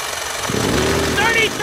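A 33 cc gas-powered hedge trimmer runs steadily, a buzzing two-stroke engine drone that stays loud and continuous through the short stretch, with a brief rising whine near the end.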